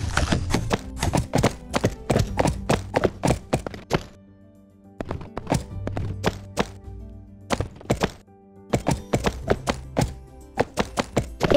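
Rapid clip-clopping horse hooves in Barbie Horse Adventures, steady and close, in bursts with brief pauses between runs of hoofbeats.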